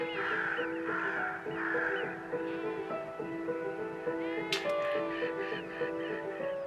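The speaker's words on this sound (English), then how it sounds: "the hooded crows scratch a living on the shoreline" Hooded crows calling along a loch shoreline, several harsh caws repeating in loose bursts over a steady, bright tonal backdrop.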